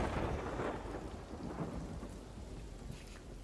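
Thunder from a lightning strike in a video game rolls as a loud, dense rumble with heavy rain hissing underneath, sustained across the whole clip without speech.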